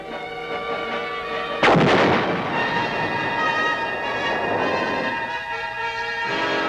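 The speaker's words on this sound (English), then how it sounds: "The big mobile guns continued to do their share in dispersing the enemy." A heavy mobile artillery gun from an American infantry unit in the Vietnam War fires one loud, near blast, followed by a long rumbling echo that slowly fades over a steady engine-like drone.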